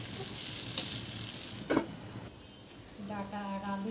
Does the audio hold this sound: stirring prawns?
yes